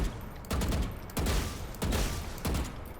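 Vandal rifle firing at targets in a video game practice range, four loud bursts of rapid shots at an even rhythm, each lasting about half a second, close and dominant.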